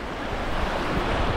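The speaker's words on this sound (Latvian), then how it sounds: "Lieli vilni!" Sea waves breaking at the shore near the Palanga bridge in Lithuania, a steady, loud broadband wash of surf mixed with wind buffeting the microphone, with no talk.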